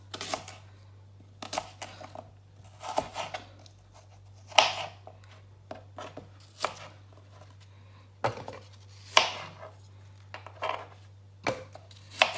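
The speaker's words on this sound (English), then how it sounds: "I'm just going to chop up the apples" Irregular knife strokes chopping apples on a kitchen board, crisp, close thuds in uneven bursts with pauses between, over a faint steady hum.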